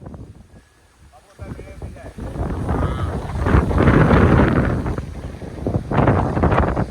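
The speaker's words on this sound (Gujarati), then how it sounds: "ફૂલ પવન મિત્રો." Strong wind roars and buffets the microphone, swelling louder midway and staying gusty to the end, with a voice faintly underneath.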